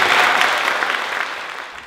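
Audience applauding at a philharmonic orchestra concert, a dense burst of close clapping that starts loud and slowly tapers off, with no talk.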